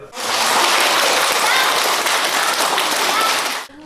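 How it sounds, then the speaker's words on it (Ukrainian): Children at a charity school event clap warmly for their benefactors, a dense, steady wash of applause sustained for several seconds, near and loud, with no clear talk over it. "ті, в свою чергу, дякували благодійників теплими оплесками"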